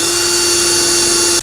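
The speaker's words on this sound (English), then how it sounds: "drill it from the inside towards the outside for your other holes" A power drill boring through metal from the inside outward while installing SumoSprings helper springs on a 2011 Ford, a loud steady high whine held close throughout.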